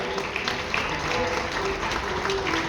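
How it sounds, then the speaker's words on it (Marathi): Audience clapping at the Malvani award ceremony, a sustained crowd applause with dense irregular claps throughout, moderately loud, with some voices mixed in. "एकदा जोरदार टाळी आपण देऊया"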